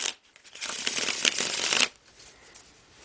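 Tarot cards are shuffled in a quick, dense riffle lasting over a second, followed by a quieter rustle as the deck settles.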